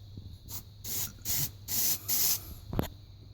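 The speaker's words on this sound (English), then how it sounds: "might need to spray a bit more in there" An aerosol smoke-detector tester can fires several short hissing bursts into a ceiling smoke alarm, each about a third of a second, in an uneven rhythm, close and clear, followed by a faint click.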